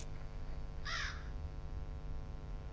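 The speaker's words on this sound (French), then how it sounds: "Et puis le corbeau." A single short caw from a crow in the Granny video game, sharp and clear, rising briefly over a steady low ambient hum, with no talking.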